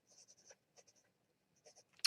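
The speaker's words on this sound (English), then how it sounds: "I'm going to get a pen here so I can write everybody's name down." A pen scratches across paper in faint, short strokes, a few quick marks followed by a pause and then more writing, ending with a slightly louder scrape.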